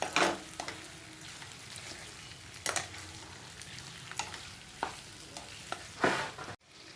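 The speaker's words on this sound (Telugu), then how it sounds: "చికెన్ వేసి మంచిగా కలుపుదాం కలిసేటట్టు" Chicken stirred in a frying pan: several scraping spoon strokes at uneven intervals over a faint, steady sizzle, close by and fairly quiet.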